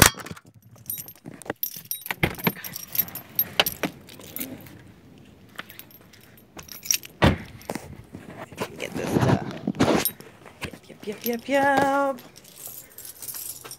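Bunch of keys jangling and clinking close by in irregular bursts while someone searches for the right key to a new house, with footsteps and handling noises and a brief spoken word.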